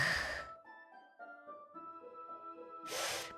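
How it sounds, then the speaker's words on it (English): A sharp hiss of air drawn in through teeth in the visual novel Doki Doki Literature Club, one breath at the start and another at the end, with a soft musical tone holding between them. "A sharp inhale, like someone is sucking the air through their teeth."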